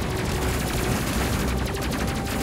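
A dense, continuous burst of rapid missile launches in the space combat game Space Crew, loud and unbroken throughout, with quick rippling pops stacked over a steady roar.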